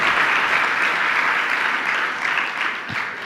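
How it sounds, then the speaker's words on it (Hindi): An audience at a religious discourse claps loudly, a dense, sustained round of applause that fades slightly near the end, with no talk over it. "जोर से ताली बजा दो अपनी हार पे"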